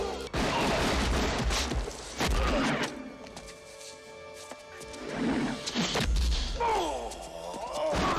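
Gunfire, impacts and kicks from a fight scene in the 1993 action film Hard Target, with loud bursts of shots and thuds, a quieter stretch in the middle, then a renewed clash of blows and crashes under a movie score.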